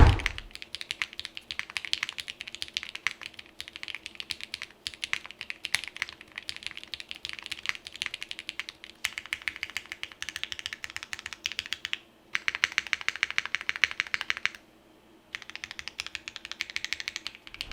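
Rapid clacky keystrokes on a computer keyboard, typed in quick bursts with brief pauses, close and fairly quiet.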